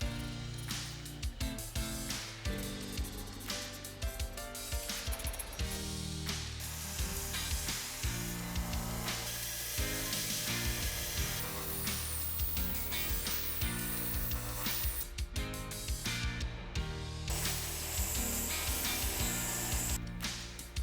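A blade bevel is ground along the edges of a handmade Batarang, with continuous rough grinding and scraping in uneven bursts and pauses, close and steady, no speech.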